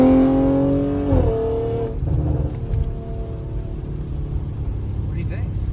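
Revving of an Audi RS5 fitted with 034 downpipes and an AWE track exhaust, a loud close engine note that rises and drops off, then settles into a rumbling idle while people talk from inside the car.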